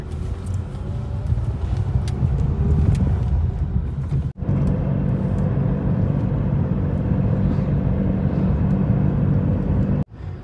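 A car driving along a road, with a steady engine rumble and road noise heard up close from inside, holding constant apart from two brief dropouts.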